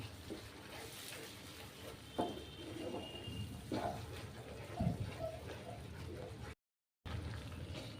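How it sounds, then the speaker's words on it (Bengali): Rinse water from a mixer jar is poured into a pan during chicken bharta cooking, a brief splashing pour with liquid bubbling, close by and with a short gap. "এবার এই যে মিক্সিতে যে বেটেছিলাম সেইটা ধুয়ে যে জলটা ছিল সেটা আমি এর মধ্যে দিয়ে দিচ্ছি"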